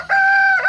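Rooster in a backyard chicken coop lets out one loud, close crow with a sustained tonal call that breaks off near the end, hens around it.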